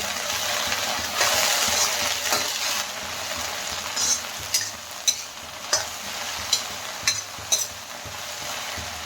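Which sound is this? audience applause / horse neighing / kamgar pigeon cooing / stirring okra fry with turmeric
stirring okra fry with turmeric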